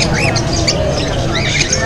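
Caged birds of opaline, dilute and wild-type mutations squawk and chirp at a pet market in Angeles City, with overlapping, rapid calls over a busy background murmur.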